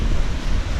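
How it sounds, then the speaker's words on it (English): Strong wind on a beach at Playa del Carmen buffets the microphone with loud, close, low rumbling gusts that fill the whole moment without a break. "I know it's very windy, and I hope you've been able to hear me"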